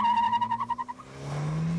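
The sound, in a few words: turbocharged Isuzu car cornering on skid pad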